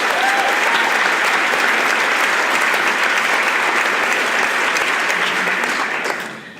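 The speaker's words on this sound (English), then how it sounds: "giving a round of applause to the fantastic Ali Moore for moderating our panel tonight" A panel audience at an evening event on women's suffrage applauds the moderator, a full, even roar of many clapping hands held steady for several seconds before tapering off at the end.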